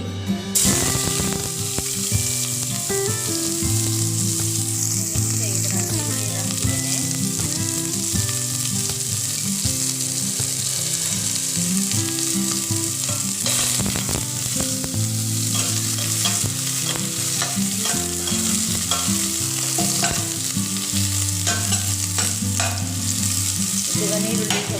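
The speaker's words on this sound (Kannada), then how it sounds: "ಈಗ ನೀರುಳ್ಳಿಗೆ ಫ್ರೈ ಆಯಿತು ನೋಡಿ" Chopped onion sizzles steadily in hot coconut oil for a fish curry, with continuous frying crackle and repeated scraping stirs in the pan. No one speaks.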